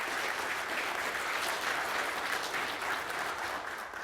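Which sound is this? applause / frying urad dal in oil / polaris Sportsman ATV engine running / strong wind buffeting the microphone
applause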